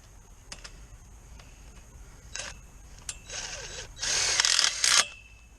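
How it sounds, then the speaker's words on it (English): Tapping screws being driven into greenhouse posts and bows: sparse clicks and short mechanical bursts at first, then two longer, louder whirring bursts from a power driver near the end, with no talk. "tapping screws into the post, into the bows. To put them into the bows. Screwing them together."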